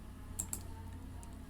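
A few quiet key presses on a computer keyboard, including the delete key, sound as soft clicks in close succession in a still room.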